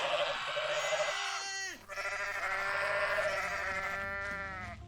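Goats in Goat Simulator bleat in long, wavering calls that overlap, loud and close, with a brief dip before the bleating resumes and carries on.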